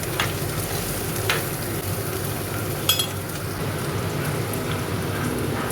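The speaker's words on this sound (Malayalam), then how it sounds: "അതിനുശേഷം അതിലേക്ക് അരിഞ്ഞ് വെച്ച സവാള ഇട്ട് കൊടുക്കുകയാണ്. ഇതെല്ലാം ഇട്ടിട്ട് നന്നായിട്ടൊന്ന് വാട്ടി കൊടുക്കുക." Sliced onions sauté in a pan for a clam meat roast with a continuous close sizzle. A few brief clinks and scraping stirs break through the hiss, and nobody speaks.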